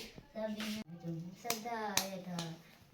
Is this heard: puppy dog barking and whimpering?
no